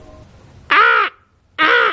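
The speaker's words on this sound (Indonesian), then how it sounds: "suara burung gagak yang menyeramkan" Two loud, harsh crow caws, each about a third of a second, separated by a short silence, set against a faint dark-night background of crickets for an eerie horror narration.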